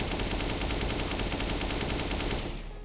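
Continuous rapid automatic fire in Counter-Strike: Global Offensive, a dense, loud stream of shots that cuts off abruptly near the end, with no talk.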